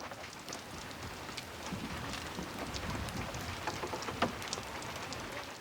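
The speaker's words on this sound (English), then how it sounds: "the start of steady but generous rainfall" Steady rain falling, a continuous hiss with dense patter of drops on surfaces, no voices.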